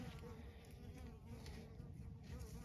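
Wild bees buzz close by in open desert, a steady insect drone with faint wingbeat texture running unbroken under low background noise.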